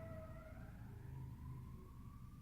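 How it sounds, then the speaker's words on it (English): An ambulance siren wails faintly outside, its rising and falling tone drifting at a distance over low background rumble, with no talk. "I kind of paused because there's like an ambulance."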